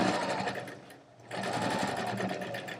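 A sewing machine runs close and loud while stitching a fabric strap for an apron, with a brief dip as it slows for a moment before whirring on steadily.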